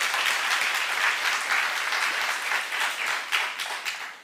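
A church congregation applauds together, a steady wash of many hands clapping at moderate distance that swells and dips slightly over a few seconds, with no voices on top.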